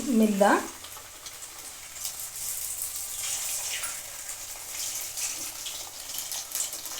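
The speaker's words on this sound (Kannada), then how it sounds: "ಬೆಂದಿರೋ ಹಿಟ್ಟಾದ್ರಿಂದ ಇವಾಗ ಕರಿಯೋಣ ಎಣ್ಣೆನೂ ಕಾದಿದೆ ಒಂದೊಂದೇ ಕರಿಯೋಣ" Rice flour snack dough deep-frying one piece at a time in hot oil, a steady close hiss and crackle that holds for several seconds after a brief tonal sound at the start.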